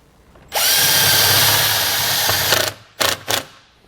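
A power drill drives a self-tapping screw to ground a ring-terminal wire on a vehicle, whirring loudly and steadily for about two seconds, then two short bursts as the screw is snugged down.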